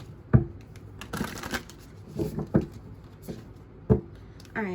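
Oracle cards for ancestor spirit readings being shuffled by hand, with a few sharp riffle bursts and soft slides spaced across the stretch, close and fairly quiet, with no talking.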